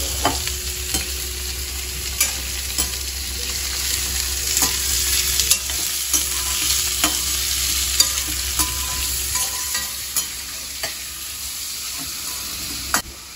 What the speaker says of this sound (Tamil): கொஞ்சம் வதங்கினா போதும், ரொம்ப வதங்கக்கூடாது.